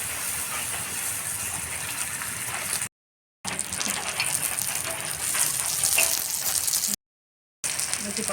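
Oil sizzling steadily in a pan while pangas fish fries, a continuous bright hiss at moderate level, briefly cut by two short gaps of silence.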